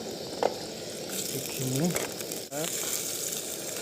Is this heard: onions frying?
yes